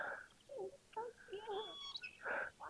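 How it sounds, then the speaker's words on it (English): Several short bird calls, chirps and squawks, come in quick bursts nearby at a lagoon, with brief pauses between them and no talking. "Lots of birds here, folks."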